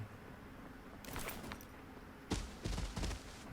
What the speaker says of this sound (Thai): เสียงปืนเว้ย ไกลอยู่